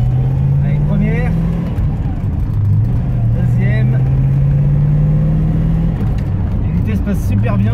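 A 1970 Plymouth Roadrunner muscle car with a pistol grip shifter pulls away in first gear, its loud low engine drone rising steadily in pitch, close up, while someone talks over it.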